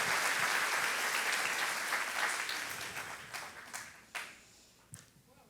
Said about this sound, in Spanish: Y el aplauso es para el Señor.